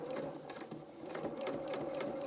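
A sewing machine top stitches the edges of dungarees at a turned-down slow speed, its needle ticking in a soft, even rhythm over a faint steady hum.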